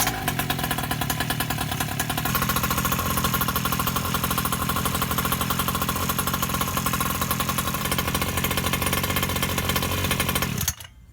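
A Primal Raminator 1/5 scale RC truck's gas engine runs at a steady, loud, rapid idle with dense rhythmic firing, then cuts off abruptly near the end.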